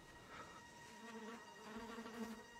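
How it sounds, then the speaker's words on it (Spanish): Flies buzz close by in a steady drone that rises and falls, with a faint tonal hum beneath and no speech. "Esas moscas son reales."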